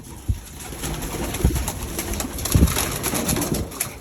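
Jansen racing pigeons coo softly in a loft, a few low throaty calls and wing shuffles over a steady hiss of background noise.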